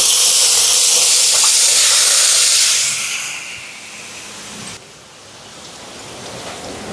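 Chicken goes into a large pot of onion and tomato cooking for a hundred-person lunch. A loud, rushing hiss of steam and sizzle fills the first half, then drops to a quieter, steady simmering hiss.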